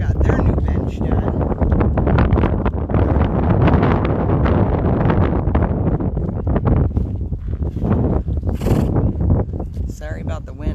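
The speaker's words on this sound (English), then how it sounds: "Sorry about the wind again." Strong wind buffets the microphone outdoors at a big-cat wildlife refuge, a constant loud rumbling roar with gusty rustle throughout.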